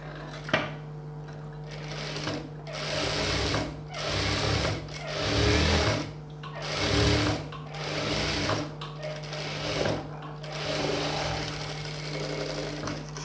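A domestic sewing machine stitches a hem on a boat-neck garment, a close, continuous mechanical whirr that pulses in short surges for over ten seconds, with no talk.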